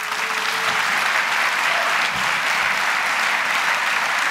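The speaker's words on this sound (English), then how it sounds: "Round of applause for them a second." Audience applause for conference organizers at a closing keynote, a dense, steady wash of clapping from a large crowd that holds at full strength throughout.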